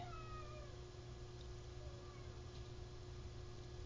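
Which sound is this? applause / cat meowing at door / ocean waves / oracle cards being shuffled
cat meowing at door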